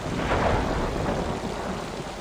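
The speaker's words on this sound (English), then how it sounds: "They flew into a fucking storm?" A thunderstorm in a House of the Dragon episode: a low thunder rumble rolls under steady rain at moderate loudness, with no voices.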